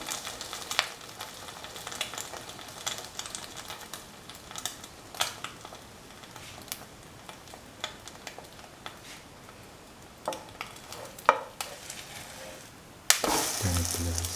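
An egg-dipped sandwich fries in a pan with a continuous close sizzle, broken by scattered scrapes and clicks of a utensil and a louder burst of spitting near the end, with no voices.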